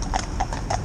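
A black Gelderlander horse in training for pair work, its hooves clip-clopping in three crisp, evenly spaced strikes on a hard surface, moderately close, over a steady low background rumble.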